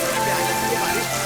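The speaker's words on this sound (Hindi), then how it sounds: "अरे बाप रे बारिश आ गई" Heavy rain falls in a village, a dense steady hiss of drops hitting surfaces, loud and continuous, with voices faintly mixed in.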